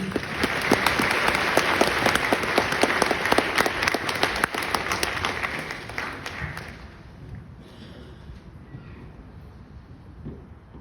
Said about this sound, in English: Ladies and gentlemen, please join us in a round of applause for these outstanding awardees.